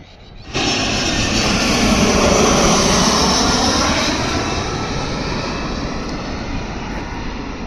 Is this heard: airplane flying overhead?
yes